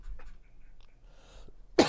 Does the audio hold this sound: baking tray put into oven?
no